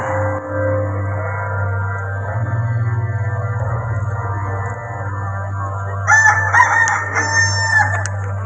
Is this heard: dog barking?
no